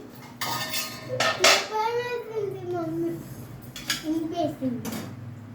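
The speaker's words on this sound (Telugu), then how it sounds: "ఇప్పుడు స్టవ్ వెలిగించి ప్యాన్ పెట్టుకుందాం" A pan is set down on a kitchen stove, making a few distinct metallic clanks and knocks spread across the moment, with a person talking between them.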